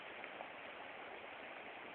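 Steady outdoor rain falls in a continuous broadband hiss at a low, even level, with no voices over it.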